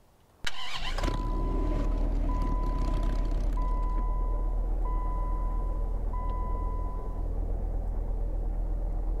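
A 2008 Bullhorn Python truck in the Roblox game Greenville cranks and fires up with a sharp start, then settles into a deep steady idle rumble while a warning chime beeps repeatedly.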